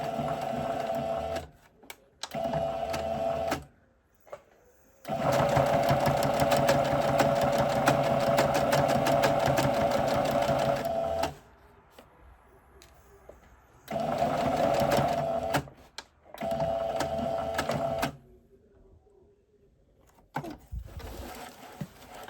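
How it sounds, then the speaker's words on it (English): A sewing machine topstitching along an existing row of stitches on elasticated trousers, running in several loud, steady mechanical whirring bursts of varying length, separated by short pauses. "we're just going to stitch along that same row of stitches"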